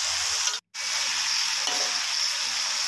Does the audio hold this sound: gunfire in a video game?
no